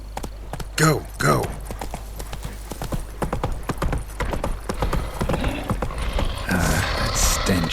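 Roach, a horse in The Witcher 3 (Blood and Wine), gallops with steady rhythmic hoofbeats close by, while a voice urges it on over the pounding.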